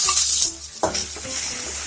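Onions and green chilies go into oil tempered with mustard seeds and curry leaves, giving a brief close sizzle with a soft stirring scrape and no talk.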